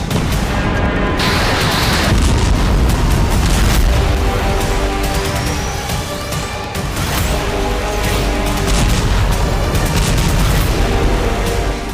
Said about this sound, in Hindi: अमेरिकी जंगबाज ने अपनी घातक मिसाइलों से मोरोजोव्स्क एयरबेस में तबाही मचाई